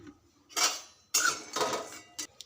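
Star anise dry roasting in a pan over low to medium heat, with a few short metallic scrapes and clinks of a spoon stirring against the pan, close by and without speech.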